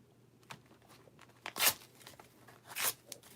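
A shipping label is torn in a few short, sharp ripping bursts, close and fairly quiet against a silent background.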